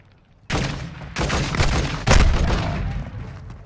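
Gunfire in Call of Duty: Modern Warfare II, loud close bursts of rapid shots that crack in abruptly and overlap with booming echoes, several volleys in quick succession with no talk over them.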